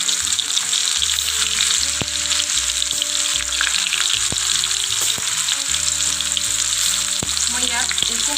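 Raw banana chips frying in hot oil, a loud, dense, unbroken sizzle crackling close up the whole time, with a melodic music track playing underneath and no talking.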